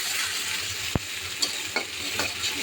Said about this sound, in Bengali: তারপরে দিলে ইয়ার পেঁয়াজ কুচি দিয়া একটু ভাজবো।